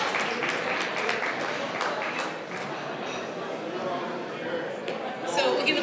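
Audience applause at a mental health awareness fundraiser as a speaker from Western Community College is welcomed, a steady wash of clapping lasting several seconds with background chatter mixed in.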